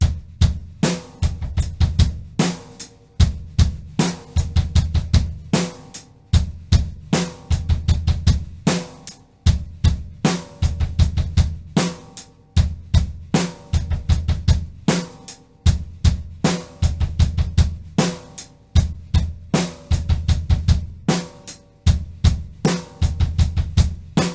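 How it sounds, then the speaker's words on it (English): A drum kit plays a steady, busy six-stroke roll groove with five rapid bass drum hits in a row and crisp cymbal strikes, loud and close, continuing throughout without voices. "So we're playing 5 notes in a row with the bass drum."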